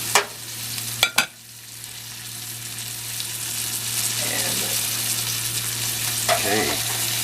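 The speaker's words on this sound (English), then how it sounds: "It's sizzling, looks good" Chicken with artichokes sizzles steadily in a frying pan, a constant crackling hiss close by, punctuated by a few sharp utensil clinks early on and soft stirring scrapes later.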